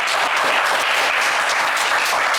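Studio audience of a French television game show applauds the four selected contestants, a brief, even burst of dense clapping at moderate volume.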